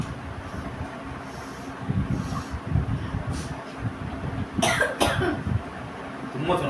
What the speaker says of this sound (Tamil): தும்ம சொன்னா இருமுற.